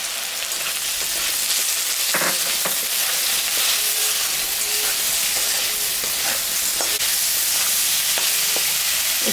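Potatoes, aubergine and radish frying in a pan as salt and turmeric are added; a steady, close sizzle with occasional scraping stir clicks, no voices.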